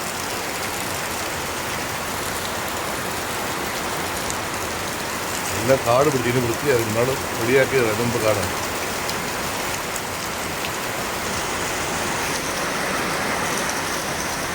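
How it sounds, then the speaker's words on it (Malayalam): Heavy monsoon rain falls steadily in Kerala while someone cooks spinach and dal, a constant close hiss of drops that runs throughout, with a person briefly talking over it partway through. "ഗംഭീര മഴയാണ് കേട്ടോ"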